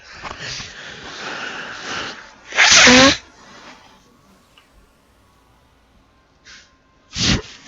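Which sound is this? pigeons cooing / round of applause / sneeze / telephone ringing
sneeze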